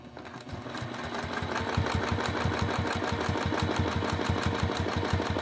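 Domestic sewing machine stitching in the ditch along a quilting ruler, running steadily at close range after a brief start, with a fast even needle rhythm throughout and no talk.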